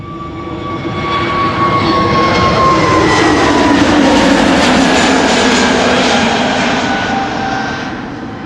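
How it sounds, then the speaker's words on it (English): A Boeing Dreamliner jet at Schiphol Airport roars past loud and fairly close, swelling to a sustained peak with a whining engine tone before fading slightly. "in the background at the moment, a Dreamliner going to Las Vegas"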